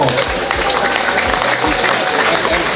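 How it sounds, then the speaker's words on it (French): A crowd applauds newly inducted winegrowers at a wine brotherhood ceremony, a dense, steady patter of clapping with voices mixed in throughout. "Allez, on les applaudit très très fort!"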